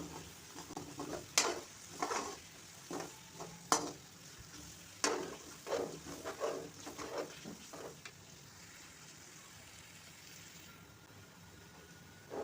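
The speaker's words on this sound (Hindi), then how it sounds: "प्याज़ों का कलर चेंज होने तक प्याज़ों को फ्राई करते रहें।" Onions frying in a pan over low to medium heat, with a steady soft sizzle and a spoon repeatedly scraping and clinking against the pan for about eight seconds, then sizzling alone; no talking.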